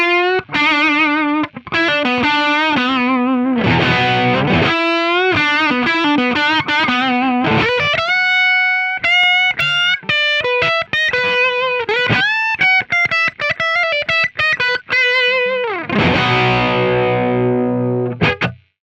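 A distorted electric guitar run through an Amplitube 5 amp and cabinet tone plays a continuous, loud riff of sustained notes and quick lines, thick with overdrive and slight chorus, with brief gaps before a ringing final chord.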